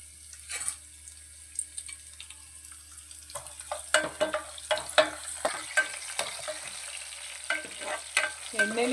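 Dried red chilies, crushed garlic and curry leaves frying in oil for mango rasam, starting quiet and building into crackling, spattering pops with stirring scrapes.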